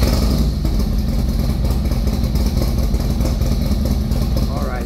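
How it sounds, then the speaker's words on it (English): A Harley-Davidson Road Glide with an M8 114 engine and upgraded clutch basket runs on a dyno, a loud, steady, throbbing engine drone close up, holding constant throughout the run. "we just got the motorcycle up on the dyno, just did a couple of pulls"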